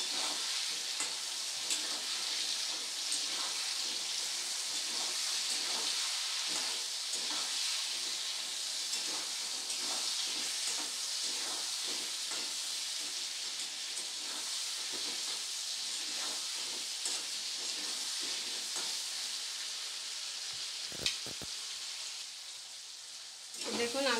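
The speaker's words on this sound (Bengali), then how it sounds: "নুনটা দিয়ে আলুটা একটু ভাজলে কি হবে, আলুটা তাড়াতাড়ি একটু নরম হয়ে যাবে।" Salted potatoes fry in a pan with a loud, steady hiss and sizzle throughout, plus occasional stirring clinks near the end; no one speaks.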